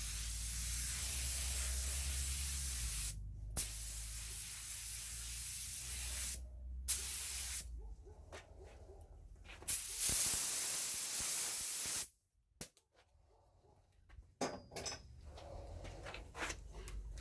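A spray gun lays ceramic coating onto car wheels, producing loud, continuous close-up hissing that runs in long stretches with short breaks before cutting off near the end, leaving faint handling noises.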